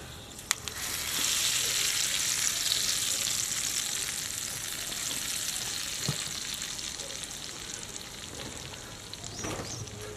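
Steady, loud sizzling of hot oil as spices hit the pan for tempering masoor dal, crackling continuously for several seconds with a few sharp pops and a clink near the end.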